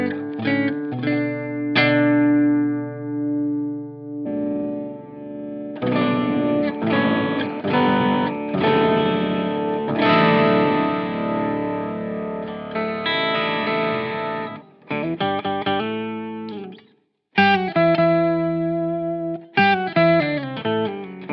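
Electric guitar played through a Boss OC-5 octave pedal on its vintage monophonic setting with the knobs at noon, thick distorted notes and glitchy chords with a doubled low octave, in bursts broken by brief pauses, with no speech.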